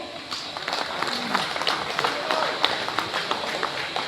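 Scattered clapping from an audience at a pigeon tournament prize distribution ceremony in Malihabad, a thin crowd applauding steadily and not very loud, with voices and crowd noise mixed in.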